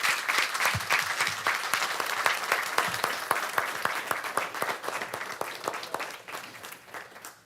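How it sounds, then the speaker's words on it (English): A crowd applauds steadily for several seconds, dense clapping that slowly thins and fades toward the end. "we also need a round of applause for Ralph's family for letting them do this."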